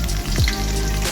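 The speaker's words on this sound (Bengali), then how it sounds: "আমি রসুনটা ছাড়লাম তেলের ওপরে" Garlic dropped into hot oil in a wok for chili chicken gives a brief, steady, close sizzle with a slight burst near the start, and no talking.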